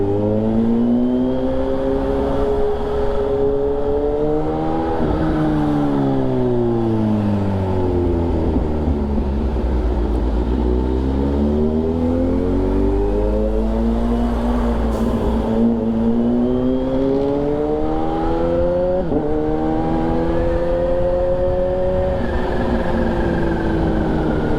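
A vehicle engine revs hard and loud in a quiet neighbourhood, pitch climbing and falling in repeated sweeping waves as the throttle is blipped and held, close by and alone for nearly half a minute.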